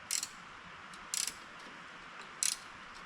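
A ratchet wrench backs out a bolt on a transmission during leak repair, giving three faint, short clicking bursts spaced about a second apart against a quiet background hiss.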